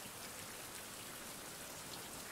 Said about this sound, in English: And it's raining again, dear lord.